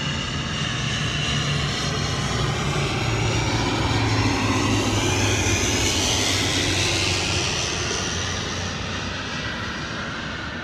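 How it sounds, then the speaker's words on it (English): Steady, loud airplane engine drone heard from inside the cabin, a continuous broadband roar with a low hum that barely changes across the whole stretch, no voices over it. "So this airplane."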